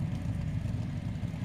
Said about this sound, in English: Listen to that Merc burbling in front of us.